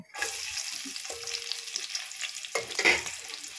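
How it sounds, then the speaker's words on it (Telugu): Green chillies and chopped onions frying in oil in a pan, a steady close sizzle with occasional stirring scrapes and a brief tonal hum, no speech. "ముందుగా పచ్చిమిర్చి, ఉల్లిపాయ వేసాం"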